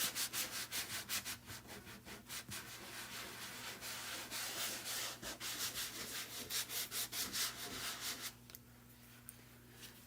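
Wax being rubbed in circles across a large grooved wooden surface, a rhythmic swishing scrape repeating in regular strokes, close and steady, trailing off near the end.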